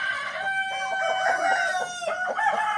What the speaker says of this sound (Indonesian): Ini nah kalau di Indonesia namanya ayam kampung.